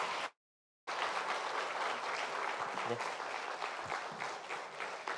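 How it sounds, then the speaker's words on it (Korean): A church gathering's audience breaking into sustained applause to welcome a visually impaired guest speaker, dense clapping filling the room after a short silence, with a brief spoken word at the start. "큰 박수로 맞아주시기 바랍니다"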